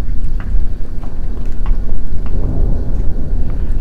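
Thunder rumbles low and heavy through a pre-front thunderstorm out on the water during a fishing trip, a continuous deep roll that stays loud for the whole stretch with no speech over it.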